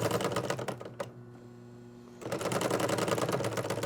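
Singer 114w103 chain stitch machine running in dense, rapid stitching bursts, loud and close, stopping for about a second mid-way before resuming at a steady fast rhythm; no talk.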